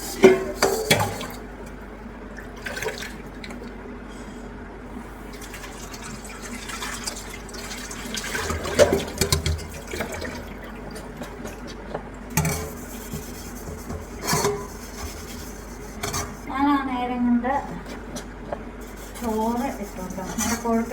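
Dishes, pots and pans clink and knock under running water in a home kitchen, with intermittent splashes and clatter spread across the scene and a voice speaking at times.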